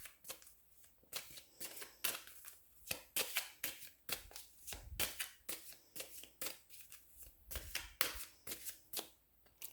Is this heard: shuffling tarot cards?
yes